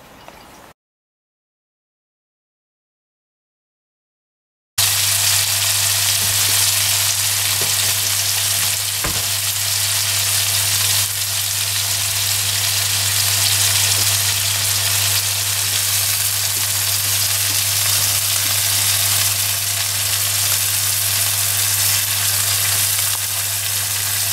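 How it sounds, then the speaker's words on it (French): Organic soy protein frying in a pan, a steady, loud, continuous sizzle with a constant low hum beneath, heard alone after a short silent start. "donc on va lancer la cuisson"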